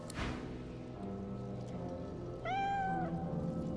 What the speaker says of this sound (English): The undead cat arches its back and hisses aggressively at your presence.